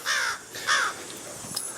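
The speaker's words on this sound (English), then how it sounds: "there you go, Mr. Crow. Of course, it could be a raven for all I know." A crow gives two harsh caws, the first around the start and a second shortly after, close and clear over faint outdoor background, in a sparse winter setting with little foliage.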